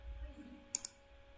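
Two quick, faint computer mouse clicks in close succession, sharp and dry against a quiet hum.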